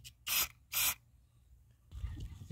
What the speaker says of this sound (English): We'll go ahead and put the carburetor cleaner hose right down on top of that.